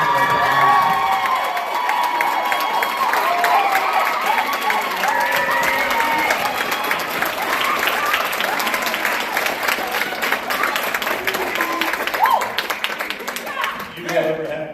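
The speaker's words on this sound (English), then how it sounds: "Can we give them a round of applause?" An audience applauds the student leadership group at a high school wind ensemble concert, dense sustained clapping with cheers and whoops, loud and close, fading near the end.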